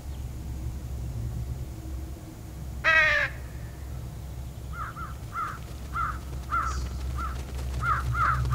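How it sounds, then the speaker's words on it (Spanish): In the Trüberbrook game world, a short shrill crow-calling whistle sounds once, then several crows answer with a run of repeated harsh caws over a low rumbling ambient background. "Un silbato llamador de cuervos."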